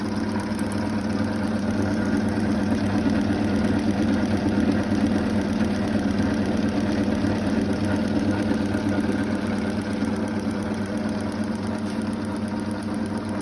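A reciprocating pump motor in a lab runs with slight vibration, giving a steady, even mechanical hum and low throb that holds at a constant level from start to finish.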